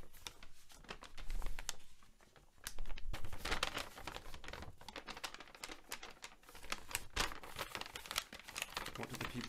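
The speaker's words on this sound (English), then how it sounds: "Or maybe you've got some paper and you can wave it, make a rustling sound." Paper is waved and rustled in a long run of crinkly, irregular rustling bursts that swell and fade, moderately loud and close.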